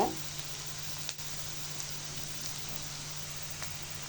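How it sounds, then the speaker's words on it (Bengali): Onion fries in hot oil in a wok, a steady close sizzling hiss holding evenly throughout, with a faint knock or two near the start. "প্রথমে কড়াইয়ে তেল দিয়ে পেঁয়াজটা ভেজে নিব"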